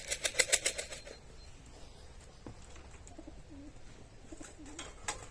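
Soft pigeon cooing in the background from tired racing pigeons returned from a 240 km hot-weather flight, low murmuring calls after a short burst of louder fluttering or rattling at the start.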